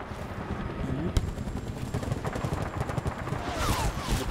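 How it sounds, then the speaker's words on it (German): Anti-aircraft flak gunfire in the video game Battlefield Bad Company 2, a dense rattle of shots and booming over a constant battlefield rumble, with one sharp close report and engine-like noise building at the end. "Oh, jetzt ist die Flak wieder."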